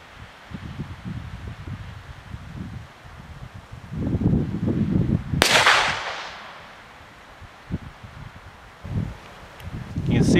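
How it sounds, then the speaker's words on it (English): A Chiappa Lil Badger .22 Magnum rifle fires a single sharp crack outdoors midway through, amid gusting wind buffeting the microphone and rustling, with low rumbling noise before and after. "See where that first shot went"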